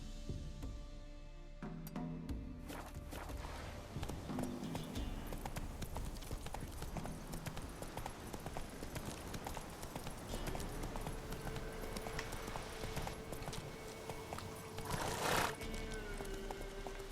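A horse trots steadily through The Witcher 3: Wild Hunt, its continuous clip-clop running under a dense game soundscape, with a brief whinny-like burst near the end.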